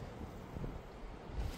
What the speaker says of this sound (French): Le bruit du vent.